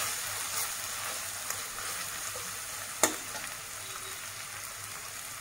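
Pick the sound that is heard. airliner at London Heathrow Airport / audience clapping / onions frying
onions frying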